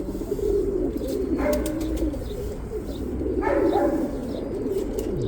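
Young light-coloured pigeons coo in a loft, giving low, throaty rolling calls in two clear bursts over a steady background murmur of the flock.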